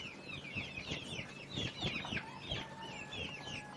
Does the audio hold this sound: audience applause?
no